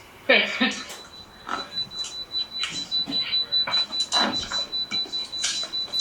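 A thin, high-pitched electronic beep holds steadily in the background while people talk over it.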